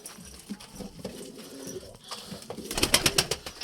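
Pigeons in a loft give soft, low cooing calls against background rustling, with a louder burst of fluttering and scuffling near the end. No one speaks.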